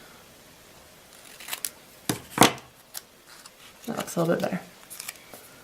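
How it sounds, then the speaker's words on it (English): Scissors trim the edges of a paper card for a handmade greeting card, giving a few sharp close snips with a loud cut near the middle, while someone talks quietly between the cuts. "I'm going to trim off some of the edges"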